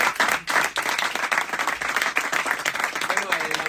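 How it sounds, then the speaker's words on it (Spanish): An audience at a book presentation in La Felguera breaks into dense, sustained applause, with many hands clapping at once and some voices mixed in. "nos despedimos con un aplauso muy grande a ella"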